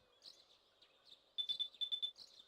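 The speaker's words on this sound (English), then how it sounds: "Your cell phone is ringing." An electronic chirping cell phone ringtone in the video game Persona 4: a quick burst of short, bright, evenly spaced beeps after a softer warbling tone, fairly quiet over faint background hum.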